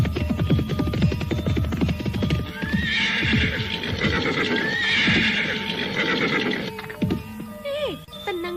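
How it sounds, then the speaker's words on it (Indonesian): Horses gallop in a steady clip-clop rhythm across open grassland in an Indonesian radio drama, with loud neighs and whinnies breaking through midway and people talking over the hooves. "Kuda-kuda sudah capek berlari terus."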